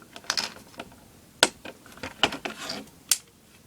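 A screwdriver drives screws into an AK-74 magazine, giving sparse, sharp metallic clicks and ratcheting ticks at irregular intervals, close and fairly quiet.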